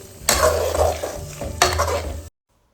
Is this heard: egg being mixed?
yes